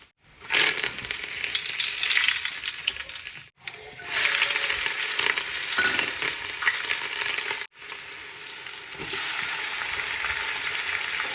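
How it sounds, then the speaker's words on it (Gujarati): Spices sizzle and crackle in hot oil, a loud, continuous frying hiss broken by a couple of brief pauses and some stirring. "મસાલો આપણો વઘારાઈ ગયો"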